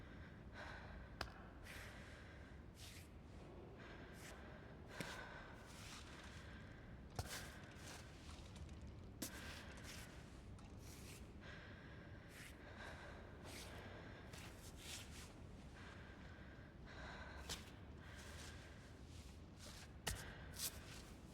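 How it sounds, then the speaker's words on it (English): Steady, quiet breathing from a female climber character in the video game Cairn, with repeated short gasping breaths and shuffles over a constant low ambient rumble. "Guess I'm listening for her breathing here primarily."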